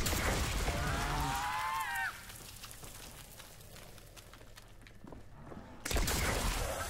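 A gun fires at a zombie in the swampy Shi No Numa zombies map of Call of Duty: a burst of shots under a rising whine, then a quieter stretch of clanking mechanisms before another loud burst near the end.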